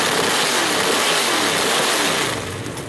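A crate motor in a G-body car runs loud and close, a steady mid-pitched engine roar that eases slightly at the end.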